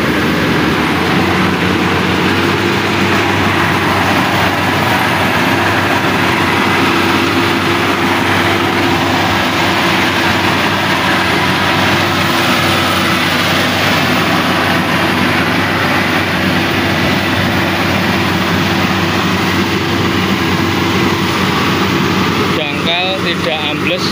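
A rice harvesting machine's engine runs steadily in a field, a loud continuous drone with mechanical hum throughout while someone talks over it.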